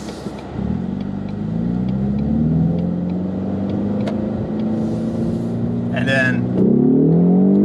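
A Ford EcoBoost Mustang pulls hard in manual paddle-shift mode, its engine note rising steadily through a gear before a brief shift dip and renewed climb, loud from inside the cabin with a short spoken phrase over it.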